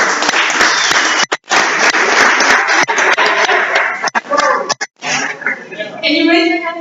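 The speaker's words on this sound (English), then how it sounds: "so round of applause for Team 4" Round of applause for a team at a classroom or workshop session, a dense burst of clapping with laughter and chatter, breaking up into voices toward the end.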